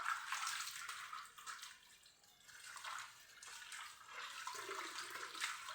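Water swishes and sloshes faintly inside a washing machine on its rinse cycle while washing a bra, in a soft, continuous, uneven wash with no talk.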